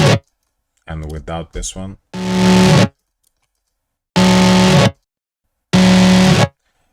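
Two similar, heavily distorted synthesizers from an electronic music production sound in three loud, buzzy sustained bursts separated by silence, after a brief spoken phrase.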